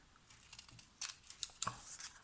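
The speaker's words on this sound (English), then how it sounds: "is just take my snips and I will snip off" Snips cut handmade card paper in a few short, crisp snaps close up, with quieter rustling before them and a sharper run of cuts in the second half.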